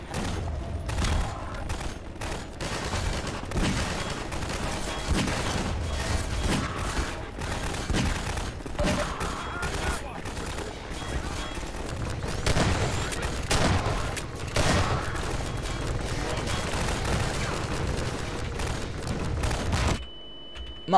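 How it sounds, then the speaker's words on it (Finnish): Gunfire and grenade explosions in the video game Half-Life 2 crackle in dense, continuous volleys of sharp shots and thumps, loud and sustained with no talking, then cut off abruptly near the end. "Mä heitän sinne granaatteja."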